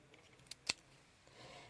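Scissors make one sharp snip through a small punched-paper owl beak, cutting it through the middle in a quiet crafting setting. There is a faint tap just before the cut, then low background hush.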